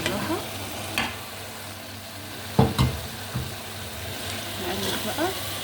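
Cooked pasta is stirred into a minced meat and tomato sauce in a pan, a soft sizzle running under scraping and clattering of the utensil, with a few louder knocks and a voice speaking intermittently.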